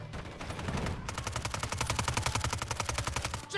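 Call of Duty video game gunfire hammers out in steady rapid bursts, a close, loud automatic weapon firing repeatedly with only brief gaps, and no talk over it.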